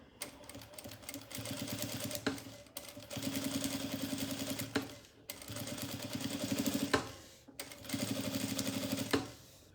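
A sewing machine topstitches along the edge of a seam on a small fabric lingerie pouch in steady, close mechanical whirring bursts of about two seconds each, with brief pauses between runs.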